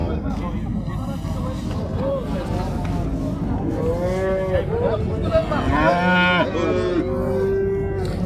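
Cattle moo repeatedly, loud and near, at a busy cattle market in Shymkent, Kazakhstan, with drawn-out calls rising over crowd chatter and voices of people haggling throughout.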